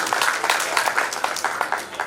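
Enthusiastic applause for the mayor at a staged short play on the life of Sita, a dense crackle of many hands clapping steadily throughout, with faint voices mixed in.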